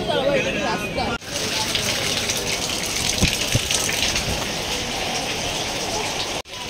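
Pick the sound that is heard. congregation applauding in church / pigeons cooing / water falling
water falling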